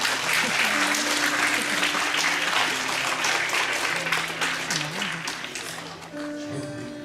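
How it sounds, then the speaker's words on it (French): Congregation applause after a sung Ave Maria at a Christmas celebration, steady, full clapping across a hall with a sustained tone underneath, tapering near the end. "Vous aimez applaudir"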